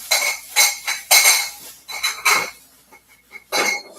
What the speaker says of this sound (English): Sorry for the metal noise.